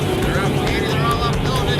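Several Evinrude E-Tech outboard boats accelerate together while towing a large group of water skiers, a loud, steady engine roar with churning water and whine rising across the clip, with a voice talking over it.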